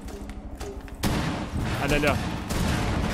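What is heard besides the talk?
gunfire in the video game Rainbow Six Siege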